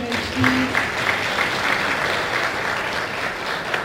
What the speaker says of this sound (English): A round of applause for the team on Public Image, please.